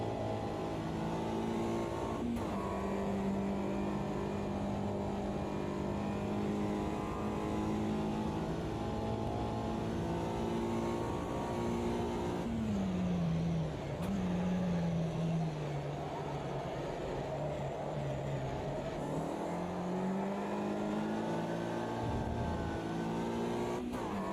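Classic Mini racing around Silverstone in Automobilista 2: a steady, buzzy small-engine drone at high revs, with brief dips and rises in pitch at gear changes and braking. It stays loud and close the whole way.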